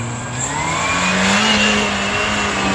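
An off-road 4x4 vehicle at the 2023 Rainforest Challenge in Goa revs its engine loudly and close by, with the pitch rising and falling in a continuous drone.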